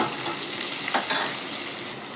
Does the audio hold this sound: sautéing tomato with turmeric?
yes